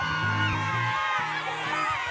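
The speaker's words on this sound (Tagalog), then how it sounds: "Pinakamaingay sumigaw ng Dakila!" A crowd at a televised morning-show contest shouts and yells together loudly, voices rising in a burst of cheering and whooping, close and energetic.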